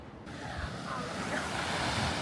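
Strong ocean waves break at a small sandy beach in Yonago, Japan, a steady, loud, broadband rush of surf with wind buffeting the microphone, and no voices.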